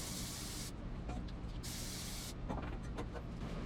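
Close hissing bursts of spray onto the heat deflector of a gravity feed smoker, two longer sprays followed by shorter puffs over a steady background.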